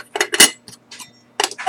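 Metal camping cook kit pans and a kettle clink and clatter as they are handled, several sharp close knocks in uneven bursts with short pauses between.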